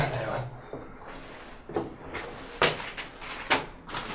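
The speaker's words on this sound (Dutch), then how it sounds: "eerste deur kreeg je wel open, maar de tweede." Heavy doors in an abandoned building are pushed and forced, giving a series of sharp thuds and rattling bangs at irregular intervals, close by and fairly quiet overall, with no talking.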